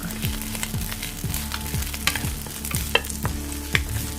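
Garlic and onion frying in a pan over medium heat, stirred with a utensil: a steady sizzle under repeated scraping strokes and a few sharp clinks, close and continuous.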